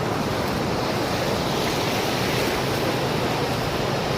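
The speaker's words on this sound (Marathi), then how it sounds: "समुद्राच्या लाटा तुम्ही पाहू शकता कशा पद्धतीनं पाणी आहे" Steady roar of surf breaking on Harne Beach in Dapoli, a constant wash of rushing water with no voices.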